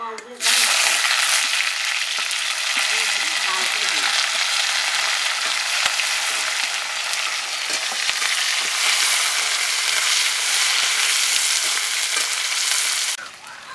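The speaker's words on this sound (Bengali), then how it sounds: "কড়াতে সরষের তেল দিয়ে দিচ্ছি। শুকনো লঙ্কা, এলাচ, লবঙ্গ, দারুচিনি, পেঁয়াজ কুচি" Dry red chilli, cardamom, cloves, cinnamon and chopped onion fry in mustard oil in a kadai, a loud, dense, continuous sizzle heard up close, with faint stirring, stopping just before the end.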